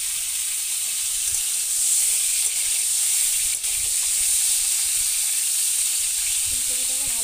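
Cauliflower fries in a pan with a loud, steady hissing sizzle that holds throughout, close up, with a faint voice near the end.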